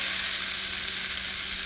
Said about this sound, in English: As you can see, the potatoes are cooking nice and evenly.